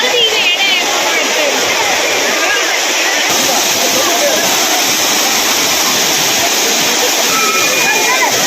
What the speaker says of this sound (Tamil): பிரதான அருவியான குற்றாலம் மெயினருவி, ஐந்தருவி, புலியருவி, சிற்றருவி, பழைய குற்றாலம் உள்ளிட்ட அருவிகளில் தண்ணீர் வரத்து அதிகரித்து காணப்படுகிறது